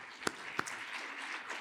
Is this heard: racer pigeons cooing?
no